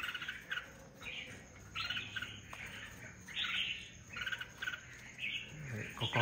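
A wild-caught red-whiskered bulbul (chào mào) gives repeated bright chirping calls in short phrases, fairly near, with insect buzz in the background.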